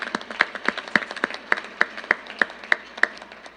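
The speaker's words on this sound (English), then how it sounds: "Give yourselves a round of applause." A run of about a dozen evenly spaced hand claps, crisp and steady, like a small group clapping slowly in unison.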